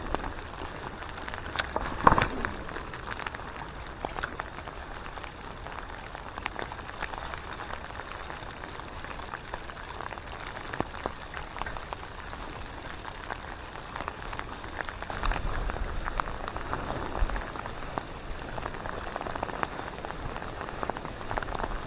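Steady patter of rain falling over a constant wash, with scattered drops ticking nearby and a brief heavier burst partway through.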